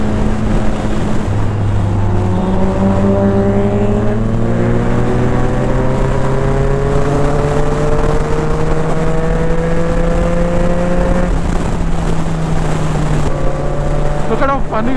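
Triumph Street Triple RS motorcycle engine racing in sixth gear, a loud continuous high-revving drone with rising pitch sweeps and heavy wind rush over roughly fifteen seconds, as a voice is heard faintly.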